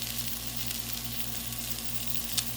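Thick-cut pork chops with buttery steakhouse seasoning sizzle steadily on a Blackstone griddle, a dense continuous hiss with one small pop near the end and no voices.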